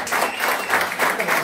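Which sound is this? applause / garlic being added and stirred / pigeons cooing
applause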